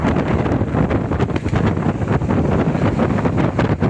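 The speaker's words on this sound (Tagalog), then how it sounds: "Maalon ng karagatan dito sa Pacific Ocean mga karagat. Ito mahangin po siya." Steady, loud wind buffets the microphone on a rough Pacific Ocean during tuna fishing, a continuous roaring rush with faint water and boat noise beneath, no voices.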